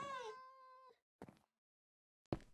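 A cat in a video game gives one long, drawn-out meow close up, followed by two short, softer sounds after a brief pause.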